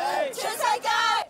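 A Hong Kong democracy march crowd chants, with a couple of rising and falling shouted syllables from many voices, fairly close and clear over about a second.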